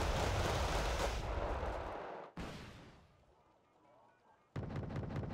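Heavy gunfire and cannon bursts in a Wargame: Red Dragon 3v3 battle, with Marder 2 and Panzer Grenadier units engaging infantry; loud dense volleys fade into a quieter rumble before another sharp burst erupts.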